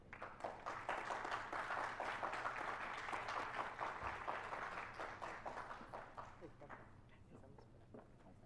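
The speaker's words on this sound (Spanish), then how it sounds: "les damos un fraternal aplauso" Audience applause at a university higher-education event, a steady, fairly distant wash of many hands clapping that gradually thins toward the end.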